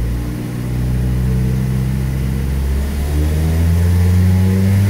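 A car engine on rusEfi engine management revs under throttle during a variable valve timing test, a loud, close, sustained drone whose pitch climbs steadily and holds high, with no voices.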